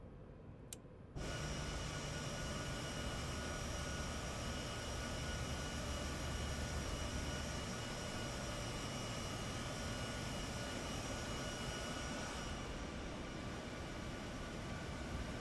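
A C-17 Globemaster III engine starting in MSFS 2024 rises into a steady, dense jet whine and roar after a brief quiet moment, then holds loud and even for the rest of the stretch.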